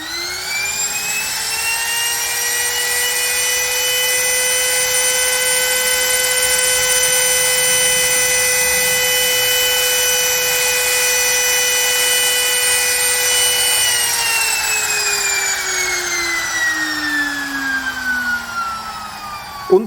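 DCA AMP02-6 wood trimmer runs at a steady high whine, close and loud for about twenty seconds, then winds down as the motor slows near the end.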